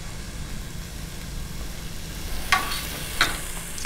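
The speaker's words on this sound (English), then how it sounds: "I'm just gonna stir fry this to combine" Minced chicken stir-fries in a pan with cilantro, scallions, lemongrass, fish sauce and salt, making a soft, continuous sizzle with a few sharp scraping clicks of the spatula in the second half.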